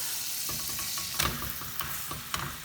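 A quesadilla tortilla fries in butter in a pan, a steady close sizzle broken by a few scraping stirs and a flip, with no talking.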